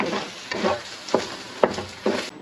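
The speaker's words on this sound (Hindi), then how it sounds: "इसमें थोड़ा सा धनिया और ये थोड़ी सी पुदीने की पत्तियां ये डाल के तो इसको हिला देना है।" Ginger chicken karahi with coriander and mint leaves being stirred in the pan, five rhythmic scraping strokes at roughly half-second intervals over a soft sizzle, close and clear with no talk.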